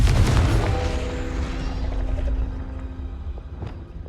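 A Confringo fire spell from Hogwarts Legacy bursts loudly at the start, its deep boom rolling off into a fading rumble with a few small pops trailing after.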